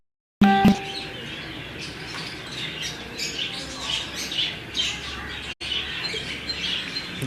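Pigeons of a Teddy and Jurra cross breed, a G10 line bred by a Kasur fancier, call with squawks and chirps that rise and fall steadily through the clip, fairly close over a constant noisy outdoor background.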